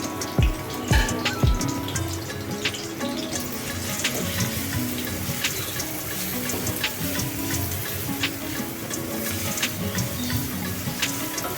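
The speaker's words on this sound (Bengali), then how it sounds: "এবার ভাজতে থাকবো যতক্ষণ পর্যন্ত না একটা সুন্দর কালার আসছে" Chopped onion, green chilli and crushed garlic frying in oil, a dense continuous crackling hiss up close with a few louder knocks at the start, steady throughout and with no talking.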